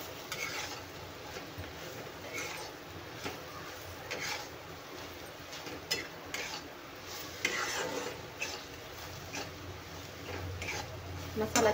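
Ground masala paste sautés in hot oil, a soft sizzle under busy scraping and clinking as a spoon stirs the pan, with a voice talking quietly at times.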